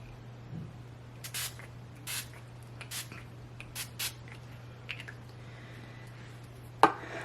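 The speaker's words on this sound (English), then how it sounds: "Let's go ahead and spray our all-nighter setting spray." Morphe All-Nighter setting spray is misted in a series of short, separate spritzes, about eight quick bursts at uneven intervals, close by and fairly soft over a low steady hum, with no talking.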